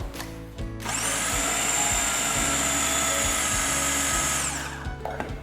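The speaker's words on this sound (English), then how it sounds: "Now blend the ingredients together." A kitchen blender runs at high speed on hazelnut spread ingredients with coconut oil, vanilla and salt, a steady loud whir lasting about four seconds between quieter moments at start and end.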